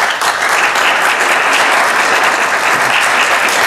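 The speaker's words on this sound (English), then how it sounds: "You can give them a round of applause." Parents and guests at a Saturday night gathering give a loud, full round of applause, thick and steady clapping from a large crowd lasting the whole stretch.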